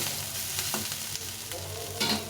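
Cauliflower fries with onion in a little oil: a close, continuous sizzle with light stirring scrapes and soft clinks, no voices.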